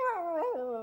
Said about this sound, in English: Dear me, it's a dog.